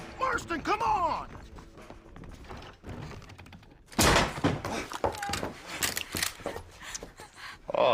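A heavy wooden door thunks and creaks open amid game sounds, with voices talking and a burst of louder action partway through.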